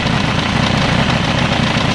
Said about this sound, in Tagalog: kung naririnig nyo yung tunog ng makina